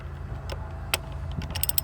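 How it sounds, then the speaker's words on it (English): A socket wrench ratchets on a car battery terminal of a Honda Crosstour, giving a few short, fairly close clicks over a steady low background hum. "Tighten it up with your socket wrench."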